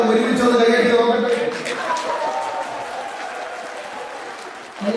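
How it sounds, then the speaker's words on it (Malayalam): Political rally crowd claps together in a dense burst that slowly thins out over a few seconds, heard fairly close with a hint of voices underneath. "ഒരുമിച്ചൊന്ന് കൈയടിച്ച് നോക്കട്ടെ"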